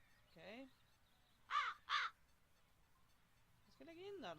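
Crows caw in The Chains of Satinav game: a single caw, then a pair of sharp harsh caws, then another drawn-out call, spaced apart over quiet background.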